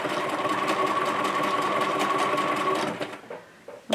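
A Bernina 1080 sewing machine runs at a steady, loud whir as it stitches backward to lock the seam, the motor hum holding constant for about three seconds before cutting off, followed by a few faint clicks.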